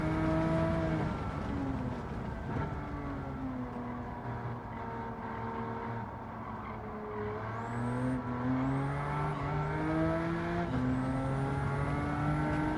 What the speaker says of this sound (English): That V8 does have quite a sound to it.